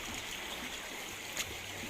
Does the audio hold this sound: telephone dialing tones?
no